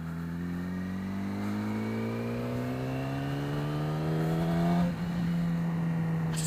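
A Yamaha R6 motorcycle accelerates hard with the throttle wound out, its engine note climbing steadily in pitch for several seconds, then dropping briefly at a gear change before pulling again, loud and close with no talk.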